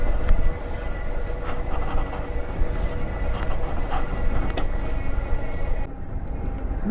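A train rumbles past a railroad crossing on the Silver Comet Trail in Georgia, a loud, steady low roar with faint rhythmic clatter that cuts off sharply near the end.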